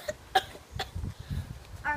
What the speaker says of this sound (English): Our body coughs it back up.